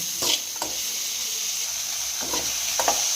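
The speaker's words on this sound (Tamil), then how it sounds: "உப்பு போட்டு நம்ம நல்லா வதக்கிக்கலாம்" Pirandai (adamant creeper) sautéed with salt in a pan gives a steady close sizzle, broken by a few quick scraping stirs, with no talking.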